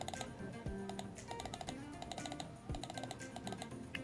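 A computer mouse clicks repeatedly during an online betting game, giving sharp, quiet taps at close range with small gaps between them. There is no talking.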